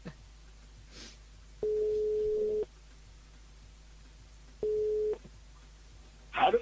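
A telephone line rings while calling a mobile phone during a French live radio broadcast: two long, steady ring tones separated by a pause, clear over a low hum, followed by a brief voice at the end.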